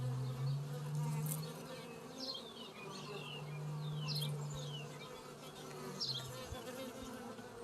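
Honeybees buzzing around an open hive during an inspection, a steady droning hum with individual bees passing close by, no talking.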